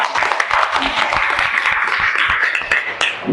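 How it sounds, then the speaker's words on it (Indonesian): A classroom audience claps together in a steady, dense round of applause lasting a few seconds, mid-distance and fairly even, with some voices mixed in. "kita kasih aplaus dulu untuk kita semuanya"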